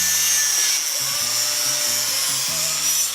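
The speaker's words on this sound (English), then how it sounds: "Now, can you grind it? Try to level it out like that." An angle grinder works on a welded steel window frame, a loud, continuous high-pitched whine with a steady underlying drone and brief rhythmic dips as pressure on the metal changes.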